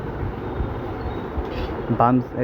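A train bound for Dhaka, Bangladesh rumbles steadily along the rails with low clattering, and someone speaks briefly near the end.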